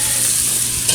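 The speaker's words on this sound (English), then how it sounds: "Stir that up there real good. We're going to let that sweat down a little bit." Food sizzles steadily in a cast iron pan with a whole onion mixed in, a continuous close frying hiss with no voices and a faint clink at the very end.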